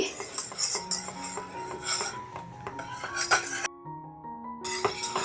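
Metal utensil clinking and scraping against a pan while china grass is mixed in, a brisk series of close, bright clinks with short pauses.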